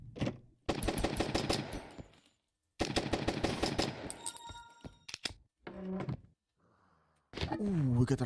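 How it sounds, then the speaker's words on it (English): Rapid bursts of machine gun fire in the run-and-gun roguelite Zombiehood come in several long, loud rattling strings separated by short gaps, with metallic pickup dings and clunks between them. "we got a rifle, a machine gun"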